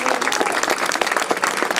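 Dense applause from an audience at a political speech in Forbach, steady close clapping filling the short stretch without any voice on top.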